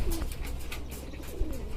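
Pigeons coo softly in a steady low murmur, a domestic flock kept by a pigeon keeper, with faint rustling around them and no voices.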